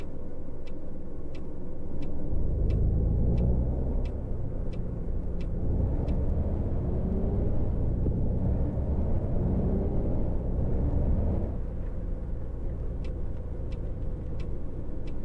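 A bus engine in a driving video game, idling then pulling away with a low, steady rumble, joined by a faint regular ticking throughout, with no one talking.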